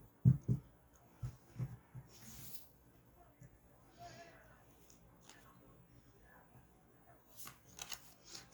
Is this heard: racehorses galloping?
no